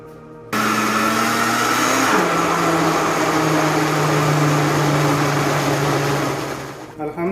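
A kitchen blender whirs loudly and steadily, blending boiled peeled potatoes into a paste for a Lahori white chana curry, its motor pitch dropping slightly after a couple of seconds before cutting off.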